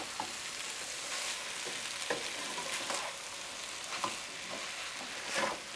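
Fried rice with peas and carrots is stirred in a hot pan: a continuous soft sizzle broken by intermittent scraping and tossing clicks, fairly quiet and close, with no voices.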